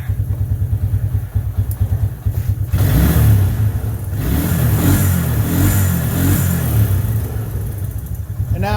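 1996 Suzuki Quad Runner 250 engine with a smoked rectifier, idling in a rapid pulsing chug before being revved hard at full throttle into a rough sustained roar, close by.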